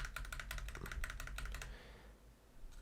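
Keystrokes on a ZET BLADE PRO mechanical keyboard with Kailh Red switches, ending in a single space bar press: a near, rapid run of sharp clicks followed by one soft thock, with no voices.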